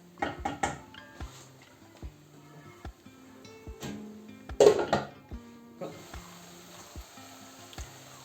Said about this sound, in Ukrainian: Накриваємо кришкою.